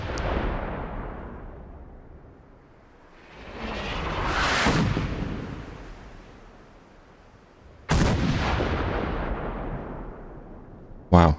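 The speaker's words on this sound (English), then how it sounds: "It does seem a bit close for artillery" Artillery bombardment in Fallout 4, heard as rolling, booming blasts that swell and fade, with a sharp loud burst near the end and a few quick cracks at the close.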